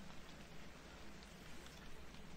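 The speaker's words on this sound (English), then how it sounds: "It's raining now, and I have to walk to work." Steady rain falling in The Convenience Store horror video game, a dense, even wash of patter with no pauses, moderately loud and alone.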